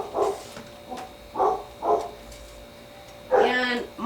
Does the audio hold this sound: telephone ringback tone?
no